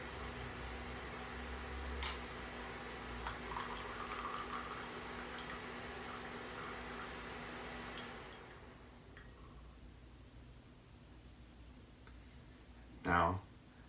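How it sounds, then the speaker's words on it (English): Tea poured from a brewing vessel, a soft continuous liquid trickle under faint background hum for several seconds, then thinning out as the pour stops, followed by a brief louder knock near the end. "Now we have a nice pour."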